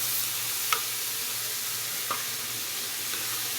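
Shrimp and chopped tomatoes fry in a pan with a steady close sizzle, broken by a few soft clinks from stirring.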